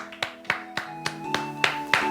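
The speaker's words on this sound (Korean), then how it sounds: "우리 하나님께 감사의 박수 드리겠습니다" Church congregation clapping together in thanks during a Korean worship service, about eight sharp, evenly spaced claps over a sustained organ or keyboard chord.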